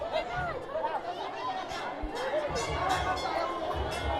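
A crowd of devotees packs a Shiva temple on Mahashivratri, a steady hubbub of many voices close by and continuous, with scattered shouts and footsteps in the mix.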